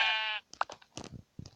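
A sheep in the Minecraft video game gives one short, buzzy bleat at the start, followed by a scatter of soft clicking and shuffling game sounds.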